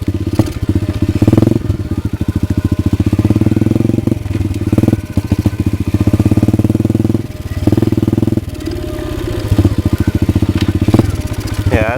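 Pit bike engine with a carburetor problem revving on and off the throttle, a loud close rattling drone that surges and dips repeatedly.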